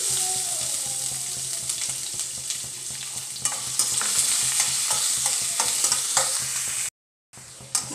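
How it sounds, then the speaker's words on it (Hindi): Chopped onion goes into a pan of frying garlic and is stirred, giving a steady close sizzle with scraping and clinking from the spoon, briefly cut to silence near the end. "अब मैं इसमें प्याज डालूंगी।"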